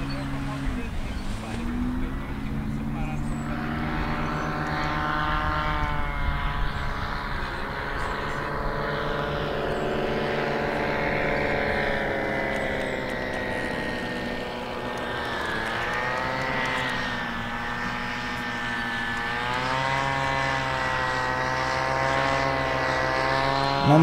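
A paramotor engine and propeller drone steadily overhead in flight, a continuous buzzing tone that rises and falls in pitch as the craft manoeuvres, with people talking nearby.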